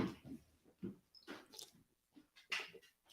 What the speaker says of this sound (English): that's my puppy